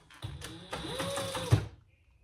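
A sewing machine stitching a crossbody bag, its motor revving up for a short, close run of rapid needle strokes before stopping abruptly.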